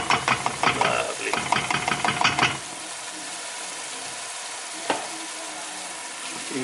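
Tomato passata being stirred into spinach rice in a pan, with a few seconds of wet, scraping clatter over a low sizzle that then continues alone, broken by one brief knock.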